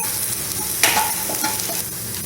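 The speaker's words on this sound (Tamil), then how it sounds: "1 டேபிள் ஸ்பூன் மல்லிப்பொடி, அரை டீஸ்பூன் சோம்பு பொடி போட்டு நல்லா இந்த மசாலையில் உள்ள அந்த பச்சை ஸ்மெல் போகிறது வரைக்கும் நம்ம எண்ணெயில் நல்லா வதக்குவோம்" Coriander powder and fennel powder masala sautéed in oil sizzles steadily up close, with scraping stirring strokes through the hiss.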